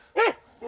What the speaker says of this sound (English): dogs are welcoming us